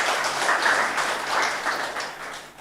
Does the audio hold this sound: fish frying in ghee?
no